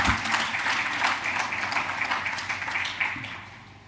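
An indoor forum audience claps together, a dense continuous patter of applause that holds steady and tapers off toward the end.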